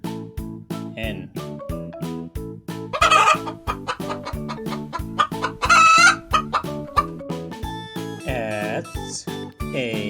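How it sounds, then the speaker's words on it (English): A hen clucks close and loud in a rapid, rhythmic series of short clucks, broken by a few louder, drawn-out squawking calls. "hen."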